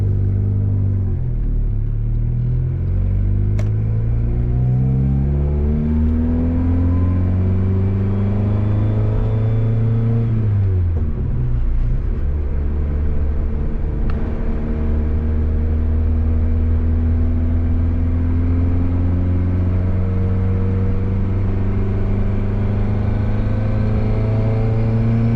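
A turbocharged Honda Civic with upgraded fuel system drives and accelerates, its engine note climbing through the gears in loud, steady rising sweeps, with a brief dip at a shift change, heard from inside the car with no talking.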